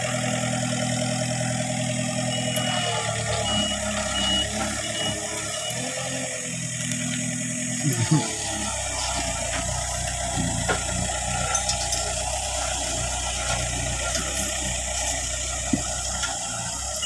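A road roller's diesel engine runs steadily at idle for the whole stretch, a low constant mechanical drone with a brief knock near the middle and no talk over it.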